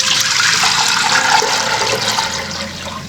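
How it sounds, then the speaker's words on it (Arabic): Water pours steadily out of a heavy non-stick pot in a rush of splashing liquid that fades slightly toward the end, heard close with no talking. "غادي نفرغ هاد الماء."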